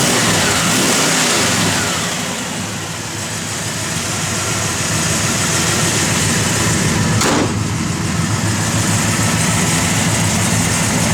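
A 1966 Chevrolet Chevelle with a mildly lumpy cam runs loud and close, its engine rising and falling through revs over a steady idle, heard alone without talk.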